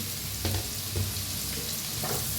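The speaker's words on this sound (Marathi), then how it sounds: "मोठ्या आकाराचे दोन कांदे कापून घेतलेले तेलात टाकूया" Onions and green chilies frying in oil hiss with a continuous dense sizzle, punctuated by a few soft stirring strokes at even intervals.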